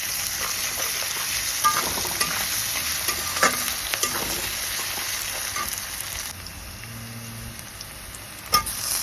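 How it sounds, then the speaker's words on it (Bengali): Diced potatoes frying in oil with onion and green chili, ginger paste then added, for a Bengali katla fish curry; a continuous moderate sizzle with occasional spatula scrapes and a couple of sharper clanks. "আলুটাকে পেঁয়াজ আর কাঁচা লঙ্কার সাথে একটু ভাজা ভাজা করে নিচ্ছি"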